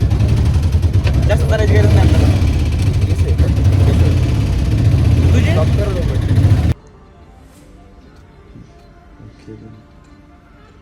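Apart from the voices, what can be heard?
auto rickshaw engine idling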